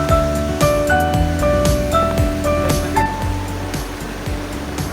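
Water rushing steadily across a small river stream while someone wades through it on the way to Curug Kembar waterfall in Batulayang village. A continuous close wash of flowing water runs under a layer of music.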